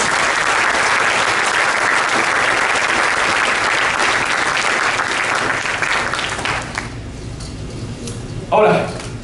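Congregation in a church clapping together in sustained, loud applause for several seconds, fading out toward the end, with a brief voice afterward.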